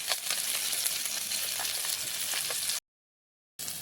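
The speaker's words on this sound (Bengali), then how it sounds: "মাছ ভাজছে।" Fish seasoned with turmeric and salt sizzles steadily in hot oil in a home kitchen, a bright continuous hiss that briefly cuts out before resuming.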